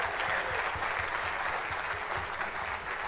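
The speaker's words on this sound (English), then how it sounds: "one more big round of applause for freshmen" Steady, dense applause from a concert audience follows a freshman percussion ensemble's performance, an even wash of many hands clapping throughout.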